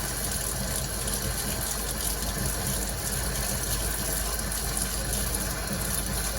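Warm water runs steadily from a tap while a lantern part is hand-washed with a little hand soap, a continuous close rushing splash with no talk.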